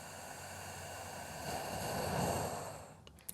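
A slow, deep breath drawn in and let out during a morning exercise routine, a close, soft airy rush that swells and fades over a few seconds.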